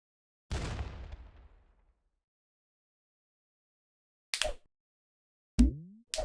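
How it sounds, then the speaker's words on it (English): Two explosion sound effects from a video game built in Godot: one sharp burst with a decaying rumble, then after a long silence a few more abrupt, clipped bangs close together near the end. "We got double explosions now."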